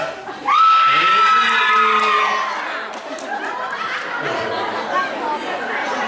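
A crowd at a New Year party breaks into loud, high-pitched screaming that rises suddenly, then fades into excited chatter and shouting.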